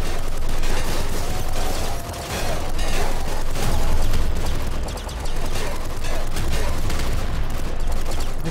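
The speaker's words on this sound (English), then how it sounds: "It'll be better for this bouncer SMG to kill things a little quicker." Rapid bursts of bouncer SMG fire in Nuclear Throne rattle almost without pause, dense and loud, with brief dips between volleys over busy game effects.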